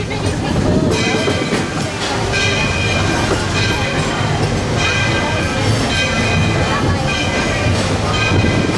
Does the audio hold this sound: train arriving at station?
yes